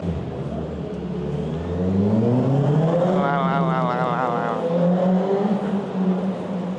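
A bus pulling up to a stop in London, its engine rising and whining as it approaches, heard close and steady amid street noise and possible voices.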